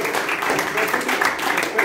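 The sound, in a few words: audience applause for a gentleman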